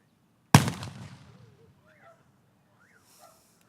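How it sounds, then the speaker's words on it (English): A single sharp cannon blast at a July 4th gate ceremony, loud and close, with a rumbling decay over about a second, followed by faint outdoor ambience and distant voices. "At this time, Paul Idle's going to fire off his cannon"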